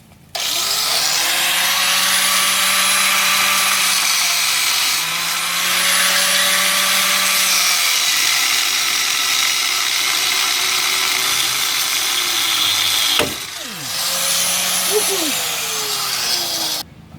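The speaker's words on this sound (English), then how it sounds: "let me get everything set up and get these bolts cut off" A power tool grinds and cuts through rusted bolts on a 1975 C20 truck, a loud steady whine running continuously with a brief pitch dip midway and a sharp pop near the end.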